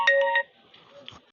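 A mobile phone ringtone plays three quick electronic tone bursts close by, then cuts off, followed by faint low murmuring.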